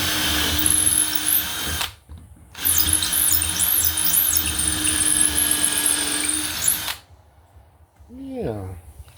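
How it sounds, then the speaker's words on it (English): Power drill with a 3/16 bit boring through a boat's rubrail, two loud sustained whining runs broken by a brief pause, followed by quiet and a voice speaking at the end. "Now we're going to take our 3/16 drill bit,"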